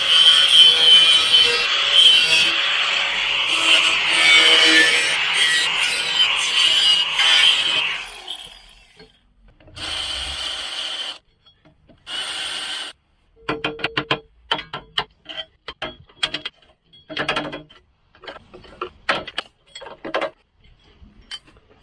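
Rusty body metal on a Jaguar XJ X300 being cut during restoration: a long, loud, steady grinding rasp for several seconds, then stop-start bursts of cutting and scraping with short pauses between.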